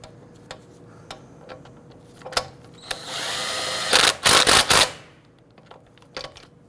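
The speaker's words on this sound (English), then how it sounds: "Go ahead and torque down your lug nuts to 80 foot-pounds. We're going to use our locking key first." A power tool spins a wheel locking key onto the lug nuts of an Infiniti G37, whirring for about a second, then a few loud ratcheting bursts, with scattered metallic clicks and taps before and after.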